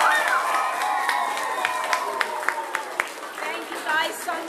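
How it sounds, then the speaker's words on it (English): A school audience claps and cheers for fifth grade students after their 'Jungle Book Kids' performance at the American Overseas School of Rome, with a steady wash of applause and sharp individual claps lasting several seconds. "And one more big round of applause for the fifth grade students."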